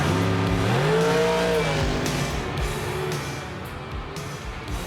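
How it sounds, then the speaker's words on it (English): Powerful Detroit muscle car engines rev and roar up in pitch, then settle into a loud throaty rumble, sounding like cars launching at a drag strip. "every weekend, they echo to the sound of Detroit muscle"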